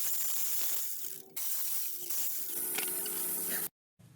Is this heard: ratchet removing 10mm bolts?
yes